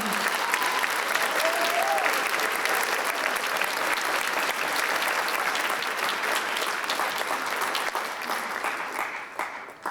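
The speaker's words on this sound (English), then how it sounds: "Can you give one more real big round of applause to them?" Sustained, loud audience applause at an honor band concert, honoring the band directors, a thick continuous clatter of many hands that holds for most of the span before beginning to fade near the end.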